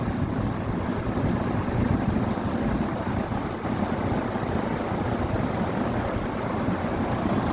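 A 40-inch Maxx Air Pro flex drum fan with a new belt runs at high speed, giving a steady, loud, broad rushing whoosh of moving air with a low rumble underneath, unbroken throughout.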